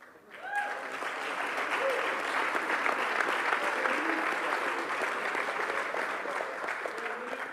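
A gala audience applauds for back-to-back TAPS 5A soccer champions, with steady, dense clapping from a large crowd that builds quickly and holds loud throughout.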